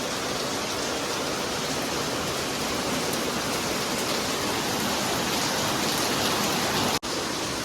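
Heavy monsoon rain pours over a Mumbai street where overflowing gutter water runs along the road, a dense, steady rushing hiss that fills the whole stretch without letup, cut by one brief dropout near the end.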